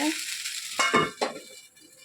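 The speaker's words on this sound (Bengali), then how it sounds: "এটা ঢাকা মেরে দেব।" A lid is set on a hot pan of dosa, giving a few quick metallic clanks over a soft, steady sizzle in a home kitchen.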